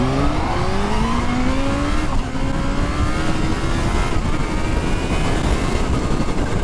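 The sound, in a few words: Kawasaki Z H2 supercharged motorcycle accelerating hard in first gear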